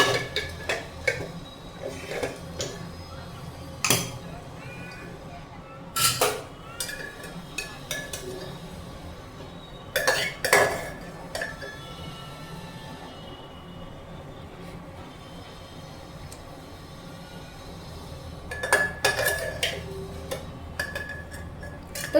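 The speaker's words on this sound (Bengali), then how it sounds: "আর এদিকে প্রেশার কুকারটা খুলতে হবে" Pressure cooker being opened in a home kitchen with rice and dal inside, followed by pots and metal lids clanking: scattered sharp clanks and knocks over a quiet, low background hum.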